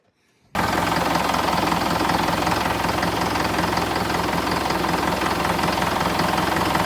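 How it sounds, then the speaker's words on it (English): A Valtra diesel tractor engine just serviced with clean fuel filters starts abruptly and then settles into a loud, steady, close-up knocking idle that runs on unbroken. "Tractor is running, clean fuel filters, should go for a while yet."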